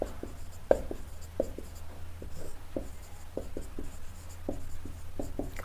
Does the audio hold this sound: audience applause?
no